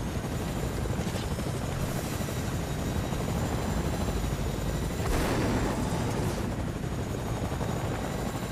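A helicopter's rotor chop roars loud and continuous throughout a Fortnite video game fight, with a couple of sharp bursts of gunfire cutting through the steady engine and blade noise.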